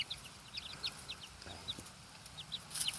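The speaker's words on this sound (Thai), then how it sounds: "ไก่พื้นบ้าน" Several short, soft clucks from free-range native Thai chickens repeat at an irregular pace over a low background rumble, with a slightly louder cluster near the end.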